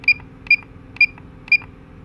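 Four short electronic beeps from a picosecond laser pen machine, evenly spaced about half a second apart, each clear and bright over a low steady hum.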